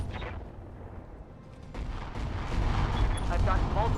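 Cluster-shot weapons fire in the BattleTech Roguetech video game sets off a loud, rolling barrage of booms that builds into a sustained heavy rumble, with crackling impacts layered throughout.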